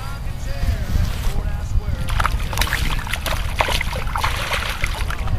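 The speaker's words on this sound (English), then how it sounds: "Nice fish, I'm gonna get it back in the water." A bass is released back into the water at night, with close sloshing and splashing that come in irregular bursts under nearby talking.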